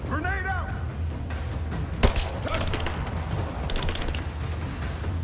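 Gunfire in the video game Rise of the Tomb Raider: scattered shots and one sharp bang amid a dense, noisy battle mix, with a voice talking over the action.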